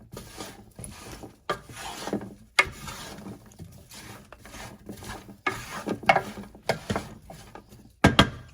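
Chopped fresh broccoli and garlic tossed together in a bowl or pan, a steady run of rustling, scraping and clattering bursts with sharp knocks, close and fairly loud, with no talking.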